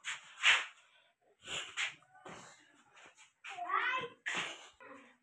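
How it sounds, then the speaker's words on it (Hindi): A cat meows repeatedly at close range, with about six separate meows and cries of varying length and a few brief gaps, and some of them edge toward a yowl. "बिल्ली"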